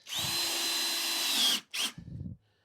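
A power drill drives pocket screws into pallet-wood table legs for a baby changing table: one long loud whine of about a second and a half, a brief second burst, then low rumbling handling noise, close and without speech.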